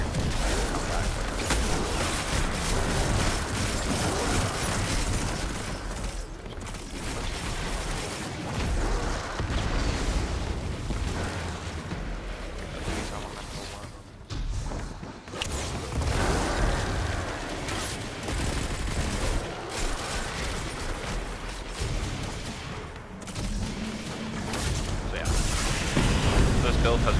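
Fusion grenade explosions and gunfire in the game Destiny, a dense run of booms and bursts that continues under steady talking across the whole stretch.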